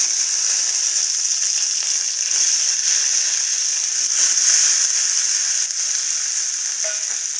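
Onions, tomato and mint sautéing in oil for a Tamil chicken fry, giving a loud, steady, close hiss of sizzling that runs unbroken throughout with no talking.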